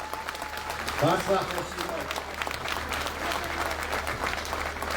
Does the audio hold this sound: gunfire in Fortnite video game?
no